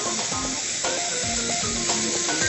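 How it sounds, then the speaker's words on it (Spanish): Bacon and onion fry in a pot, a low continuous sizzle with light stirring clatter, while faint music tones drift along in the background. "Aquí en nuestra olla vamos a poner a dorar el tocino. Y le vamos a echar esa cebollita."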